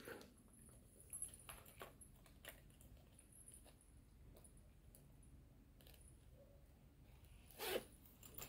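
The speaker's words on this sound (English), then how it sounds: "Close, pull the zip." A zipper is pulled shut on a pencil case, faint, quick rasping strokes, close but quiet, in a calm room with soft rustling.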